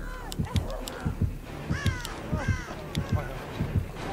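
Crows in the Dead by Daylight video game caw in a run of repeated calls with a rhythmic thumping heartbeat pulse underneath, fairly close and clear.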